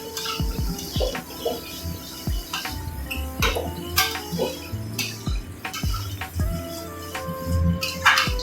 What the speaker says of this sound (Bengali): ছোলার ডাল দিয়ে ভালো করে কষে নেব।